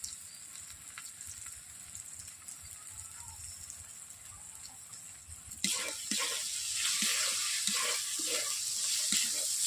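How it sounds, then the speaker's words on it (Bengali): Spices for a rui fish curry hit hot oil in a pan and burst into a loud, crackling sizzle partway through, after a quieter stretch of low hiss and gentle stirring. "হলুদ দেওয়ার পর আমি 2 মিনিট ধরে সবগুলো মশলাগুলোকে একই সঙ্গে আমি কষে নিচ্ছি"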